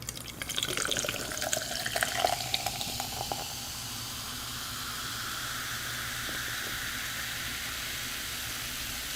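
Cola fizzing after being poured or opened, a steady carbonated hiss with brief crackling bursts at first, then a long even fizz, close and quiet with no talk.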